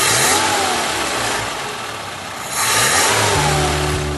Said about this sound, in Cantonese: 始終有嗰種引擎聲啦，有死氣喉嘅聲